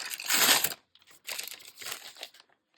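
Paper ripped for a Halloween journal, one loud close tear followed by two shorter crinkly tearing bursts, alone with no talk.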